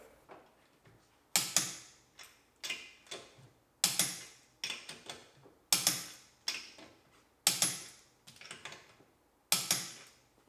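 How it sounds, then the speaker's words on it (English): A torque wrench tightening wheel lug nuts on a 280,000-mile Acura NSX, heard as a series of sharp close clicks and ratcheting taps in spaced groups, each burst fading quickly, with no talking. "go back with your torque wrench and actually set them to the appropriate torque spec using the star pattern"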